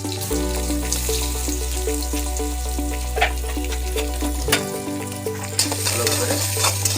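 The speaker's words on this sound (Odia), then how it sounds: "ଭଲ ଭାବରେ ଘାଣ୍ଟିଦେବା ପର୍ଯ୍ୟନ୍ତ ପିଆଜ ରଙ୍ଗ ନେବା" Chili and chopped onion sizzle steadily in a pan while being stirred, a continuous close frying hiss with light scraping throughout.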